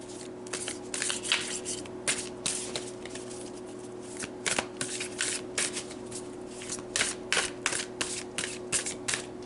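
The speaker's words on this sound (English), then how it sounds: "So let's pull a few more cards and see what else Spirit would like to say." A deck of tarot cards being shuffled and pulled, giving repeated close papery riffles and slides in irregular bursts over a steady low background hum.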